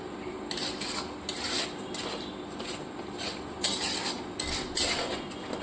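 Chicken masala being sautéed in a pan without oil, a spatula scraping and rubbing in a repeated rhythmic back-and-forth, close and moderately loud.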